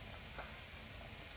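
Onion frying in a pan for Hungarian goulash gives a steady, faint, close sizzle with a soft crackle, continuous and alone.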